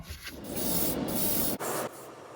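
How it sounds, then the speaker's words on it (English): A steady, loud hiss of spray paint blasting onto the wheels of a Matchbox Lesney Opel Diplomat die-cast model car for about two seconds, with a brief break before a second short burst. "After spraying the wheels, I'm getting onto the body."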